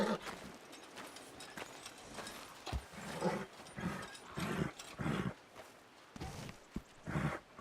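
A horse in Red Dead Redemption 2 clip-clops along with irregular hoof thuds and rustling, moderately loud and close, no voices over it.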